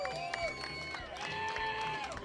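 A crowd cheers and whoops for a fishing team at a tournament weigh-in on Catalina Island, a steady, moderately loud mass of voices with a few shouts standing out and some talk mixed in.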